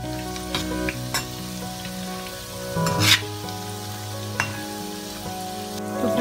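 Ram Laddu moong dal fritters fry in hot oil over a medium flame, a steady bubbling sizzle with occasional louder crackles and brief stirring touches, heard alone and close.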